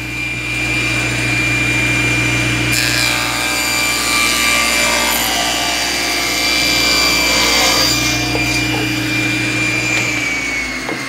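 Wood strips for a benchtop router table are cut into pieces by a saw with a steady, loud, close whine that runs on, with a cut sounding through the middle before the motor winds down at the end.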